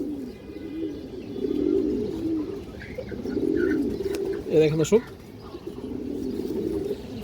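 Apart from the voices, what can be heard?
pigeons cooing, Kaldom and Indian high flyer pigeons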